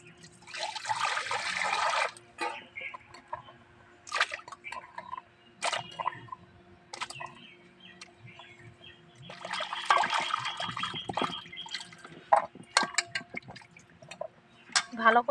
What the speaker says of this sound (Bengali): আমগুলো সব কাটা হয়ে গেছে, এবার জলে ধুয়ে নেব।